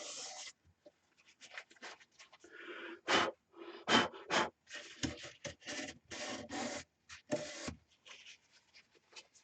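Lego pieces spin on a wood lathe while Yorkshire grit polish is pressed against them, giving close, intermittent rubbing and scratching bursts with brief quiet gaps between strokes.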